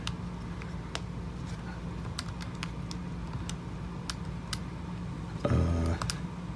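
Fingers tap the plastic keys of a TI-84 Plus CE Python Edition calculator in light, irregular clicks, close and quiet, with a brief low thump near the end and no voices.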